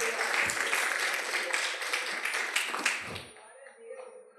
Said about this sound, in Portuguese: aplauda o Senhor nessa manhã.